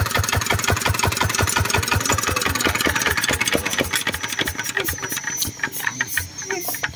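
A Zanma F6 small engine runs at a steady idle, a loud close rapid chugging pulse that stays even for most of the stretch before turning slightly uneven near the end.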